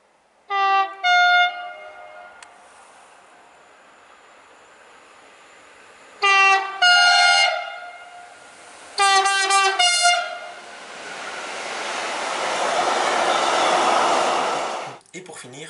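Loud, deep freight train horn blasts in three separate bursts, followed by the rising roar of the passing train that fades at the end.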